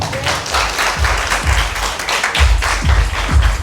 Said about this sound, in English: And can you clap for yourself?